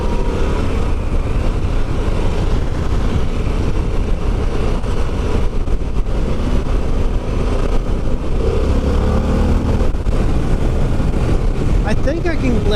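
Harley-Davidson Pan American motorcycle being ridden, its engine a steady loud drone mixed with heavy wind rush across the whole stretch, close and continuous with no pauses.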